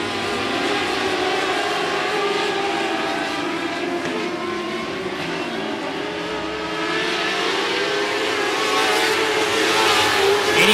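Race cars circle an oval speedway at 105 Speedway in a continuous loud engine roar, with overlapping cars swelling and fading as they pass, building slightly toward the end.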